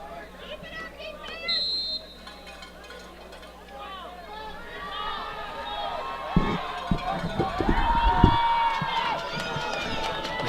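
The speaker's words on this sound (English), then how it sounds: "Nekoosa crowd urging the defense on here." Home crowd at a Nekoosa high school football game against Mauston urging on the defense on third and long: a sustained roar of voices with chatter that swells louder toward the end, with scattered thumps.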